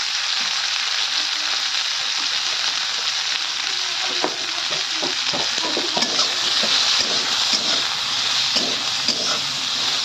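Bitter gourd frying in mustard oil with turmeric, a steady close sizzle broken by repeated scraping and stirring strokes in the pan, no voices.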